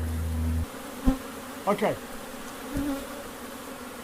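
Honeybees buzz around an opened long hive, a few short close passes of droning buzz against quiet outdoor background, with a brief spoken word near the start.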